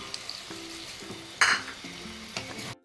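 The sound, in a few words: milk added to a sizzling pan for jackfruit prawn curry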